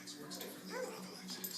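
A dog whimpers and yips softly in a home while a toddler chases it, the thin cries coming in short bursts over quiet background noise.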